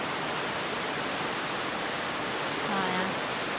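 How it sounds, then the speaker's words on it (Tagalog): A waterfall in a cave pours with a constant broadband hiss of rushing water, steady and fairly faint, with no clear speech. "There's a waterfalls there."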